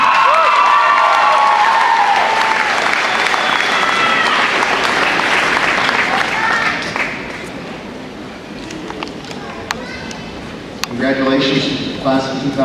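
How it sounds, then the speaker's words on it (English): Crowd at the Lakeland Union commencement applauding and cheering the graduating class of 2012, loud dense clapping and shouts that ease off midway, then scattered claps, whistles and voices return near the end. "Let's give them a big round of applause."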